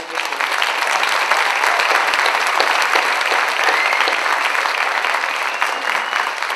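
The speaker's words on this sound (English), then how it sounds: "why don't you give them a round of applause right now." Sustained audience applause at an elementary school 5th grade spring band concert, a thick continuous roar of many hands clapping at even loudness for the whole stretch, with no talk over it.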